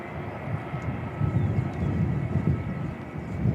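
A Jetstar airliner rumbles at Christchurch Airport, a broad, steady low roar with some wind buffeting, heard from a distance outdoors.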